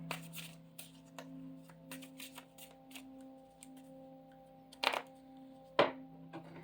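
Tarot cards being shuffled close up in a quiet room, a string of soft slapping and riffling taps with a couple of sharper snaps near the end, over a faint steady hum.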